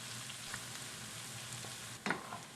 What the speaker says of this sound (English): I'm going to get this garlic softened up, translucent, just lightly browned around the edges.